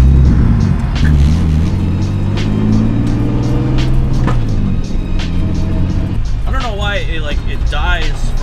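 Turbocharged BMW E46 engine pulling at high RPM under load on a freeway, a steady loud drone with rising and falling pitch throughout, while a person talks over it.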